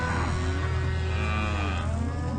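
Cattle moo steadily in a herd of about 1,000 head on a road drove south of Tamworth, Australia, deep overlapping lowing calls layered over constant outdoor noise, no voices.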